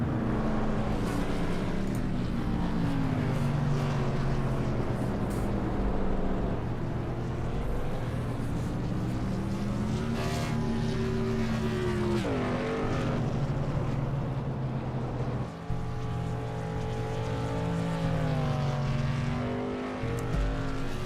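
Modified race cars in the iRacing sim at Five Flags Speedway roar steadily and loudly throughout, engines droning and shifting pitch as a pack runs close together; no distinct crash impact stands out.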